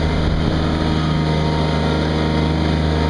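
A Ransomes AR 250 reel fairway mower with four-wheel drive and rear steering drives around a property, its engine a loud, steady, close drone with a strong low hum and no voices.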